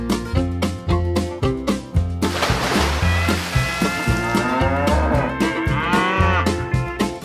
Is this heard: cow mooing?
yes